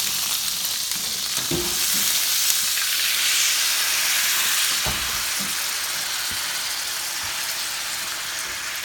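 Wine poured into a hot pan on high heat for a sous vide steak pan sauce, giving a loud steady sizzle and hiss as it reduces, with a few scraping stirs and clinks, and no talking.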